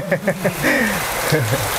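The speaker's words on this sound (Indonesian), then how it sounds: "Ini beneran mirip hujan beneran." An artificial rain spray hisses steadily inside a bird aviary, a close, even patter that runs under voices and other brief calls.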